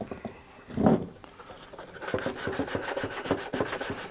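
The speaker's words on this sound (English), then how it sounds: "sand that all back." A car headlight lens is sanded by hand, with quick rhythmic back-and-forth scraping strokes, close and fairly quiet. The rubbing follows an earlier brief thump.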